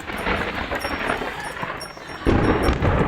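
Thunder rumbles through a rainstorm, a continuous low roll that suddenly swells louder near the end, with rain hiss underneath and no voices.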